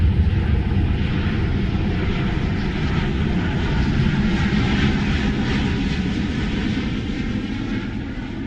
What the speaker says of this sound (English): A U.S. B-1 bomber took part in a U.S.-Korean military exercise to send a